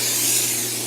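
Cooking spray hissing from an aerosol can into a cake pan, a steady close-up spray held for under a second without pause.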